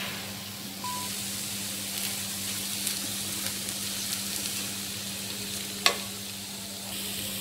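Spiced potato filling with garam masala stirred in a pan, a continuous close sizzle with soft spatula scrapes and one sharp clack near the end.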